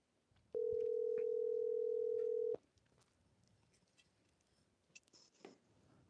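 A phone dial tone comes through a soundboard as a single steady electronic hum lasting about two seconds, then stops, leaving faint room noise and scattered small clicks.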